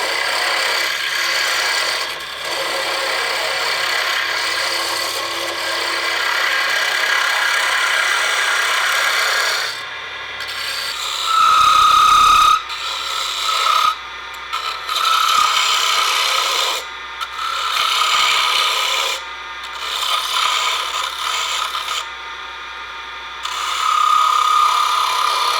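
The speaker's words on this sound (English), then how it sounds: "if you can make a small miniature baseball bat, you're really getting yourself really prepared for the lathe" A miniature baseball bat being turned on a wood lathe in a school wood shop, with a steady broadband scraping hiss of the tool on spinning wood, broken by brief pauses and changes in pressure, close and fairly loud throughout.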